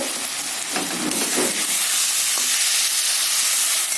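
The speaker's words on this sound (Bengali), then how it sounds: "মশলাটা কষানো হয়ে গেছে, মানে ভাজা ভাজা হয়ে গেছে।" Spice paste for a Bengali mutton curry with potatoes frying in a pan, a loud, bright, continuous sizzle with a few stirring scrapes, steady and close with no talking.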